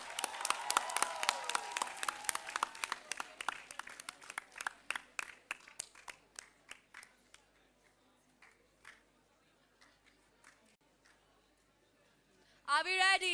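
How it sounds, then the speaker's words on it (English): Audience at a school valedictory ceremony clapping for dancers, starting as a brisk scattered patter under a voice, then dwindling to sparse isolated claps before a loud burst of amplified sound near the end. "Let's motivate our dancers and give them a huge round of applause for their welcome"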